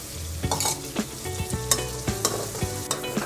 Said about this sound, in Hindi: अब इसमें हम 2 कद्दूकस किए हुए प्याज डाल रहे हैं और इसे तब तक भूनिए